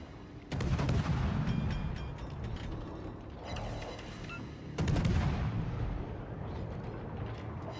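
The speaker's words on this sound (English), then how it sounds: "you can just keep shooting with this ship" Guns fire on a Neustrashimy destroyer in the naval game World of Warships. Two heavy booming salvos land about four seconds apart, each followed by mechanical clanks and rumble, with no talking.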